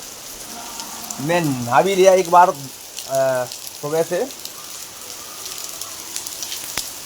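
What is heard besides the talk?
rain falling in a village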